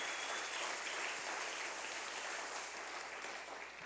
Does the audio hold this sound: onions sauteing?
no